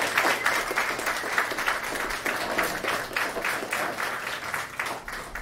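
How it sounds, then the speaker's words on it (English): Audience at a Berkeley panel discussion on 1968 applauding the panelists, with dense, sustained clapping from a full room at moderate loudness that fades slightly at the end. "Please give a warm round of applause for all the panelists."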